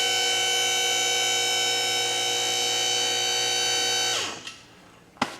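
Electric scissor lift raising a junkyard Cadillac, a loud steady motor whine held for about four seconds before winding down, followed by a sharp clunk near the end.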